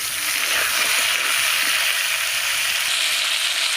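Potatoes, eggplant and flat beans frying in a pan with a little salt, a steady close hiss of sizzling oil running throughout with faint scraping underneath.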